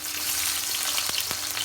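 Sliced onion drops into hot oil in a heated wok and fries with a loud, steady sizzle, a bright hiss filling the whole moment with a couple of small crackles.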